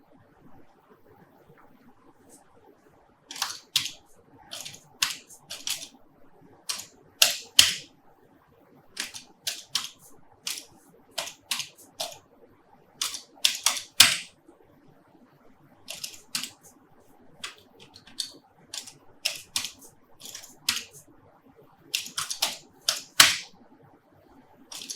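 Typing on a computer keyboard while entering dates in Excel: bursts of crisp, close key clicks separated by short pauses, with no voices.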